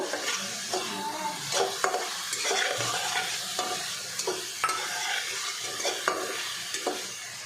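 Tomato puree hits a hot frying pan for a tangra fish curry with potato and eggplant, giving a continuous sizzle broken by repeated scraping and stirring strokes of a utensil against the pan.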